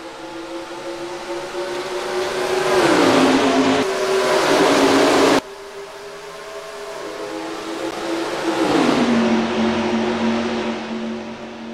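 Race truck engines roaring around Atlanta under lights in the NASCAR Racing 2003 game, loud droning engines rising and falling in pitch as trucks pass and shift, with an abrupt cut midway.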